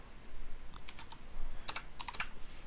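Typing on a computer keyboard while writing code, with quick bursts of crisp key clicks in uneven clusters over faint room noise, close and fairly quiet.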